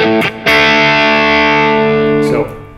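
A single distorted electric guitar chord from a rock song rings out loud and sustained for about two seconds, preceded by a brief scratchy strum.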